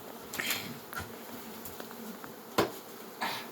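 Bees drone continuously at close range, with occasional knocks and scrapes of equipment punctuating the buzzing.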